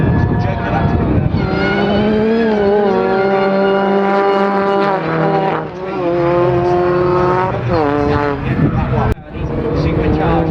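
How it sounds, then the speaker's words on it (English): Supercharged Mini Cooper rallycross cars race at Silverstone, engines revving hard and rising through gears in repeated loud sweeps, with a commentator talking over them. "Supercharged Mini Coopers, and they're very popular indeed on the RallyCross scene"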